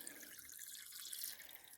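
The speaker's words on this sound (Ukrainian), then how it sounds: "на пару секунд опустимо в цю воду, продезінфікуємо яйця" Duck eggs being dipped in warm water to disinfect them, giving soft, close water trickles and drips in a quiet room, with no talk.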